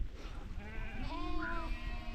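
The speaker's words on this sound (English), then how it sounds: "as long as this sheep shut up at some point" A sheep bleats in one long, wavering cry over steady outdoor background noise at a trekking camp near Rush Lake in the Karakoram mountains.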